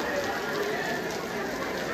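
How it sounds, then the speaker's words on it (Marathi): Heavy rain pours down at a temple puja gathering, a steady, even hiss of falling water filling the whole moment without a break. "बेकार पाऊस होतोय."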